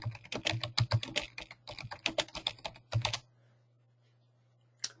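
Computer keyboard typing a search: rapid, steady key clicks in close, crisp bursts for about three seconds, then silence with a faint hum and one last click near the end.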